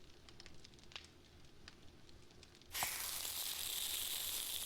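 Meat cooking over a campfire in the survival game 7 Days to Die. A faint crackle with soft ticks gives way to a loud, steady sizzle and hiss that continues to the end.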